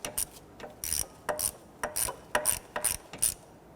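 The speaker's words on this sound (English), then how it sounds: "Let's go ahead and gently snug down those 4 bolts." A ratchet snugs down the four bolts on the plastic water pump cover of a 1992-1996 Toyota Camry 2.2L four-cylinder, giving eight quick, even bursts of clicking close by, with no talking.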